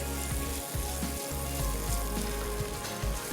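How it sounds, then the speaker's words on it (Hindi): Masala with garlic-ginger paste sizzling steadily in hot oil in a pan, a continuous close crackle with occasional stirring scrapes and no talk. "अब अच्छे से मसाले को भूनना है हमने"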